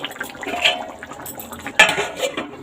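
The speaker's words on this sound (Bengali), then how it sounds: "সিদ্ধ হওয়ার জন্য একটু ছেড়ে দেবো ঢাকা দিয়ে দিলাম" A lid goes onto a pot of papaya and paneer curry with a close metallic clatter, a sharper clink partway through, over a soft bubbling background.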